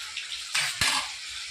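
Ginger garlic paste frying in hot oil in a pan, a brief close sizzle with a couple of sharp stirring clinks against the pan.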